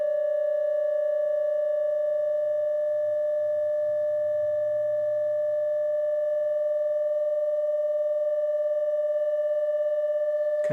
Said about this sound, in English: It's 2 sound waves adding together and taking away from each other when they get in step or out of step